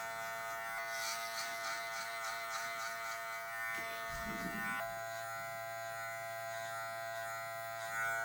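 Electric hair clippers buzz steadily close by while cutting long hair, a constant humming drone with brief changes in tone as the blade meets hair, no talk.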